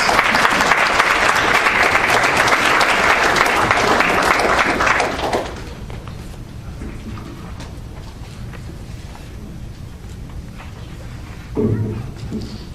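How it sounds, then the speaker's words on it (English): A graduation ceremony audience gives loud, sustained applause for the 2012 Summer and Fall CSO graduating class, a broad wash of clapping that stops abruptly after about five seconds, leaving a quiet hall with a brief murmur near the end. "please give a round of applause your 2012 Summer and Fall Graduating CSO class"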